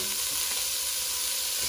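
Onion, garlic and red and yellow bell peppers fry in a skillet, giving a steady, close sizzle with a constant hiss and no talking.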